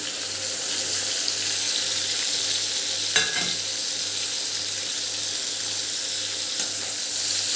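Two large chopped tomatoes sauté in a pan for a Punjabi-style corn curry made without onion or garlic, giving a steady, even sizzle and hiss with one brief clatter partway through.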